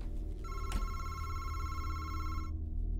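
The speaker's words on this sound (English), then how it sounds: "There's a phone going off." A telephone rings inside the horror video game MADiSON, a steady electronic bell tone lasting about two seconds and then cutting off abruptly, with a brief click near the start and no talking.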